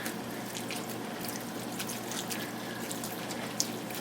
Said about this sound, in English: And this is where you're going to rinse your cabbage.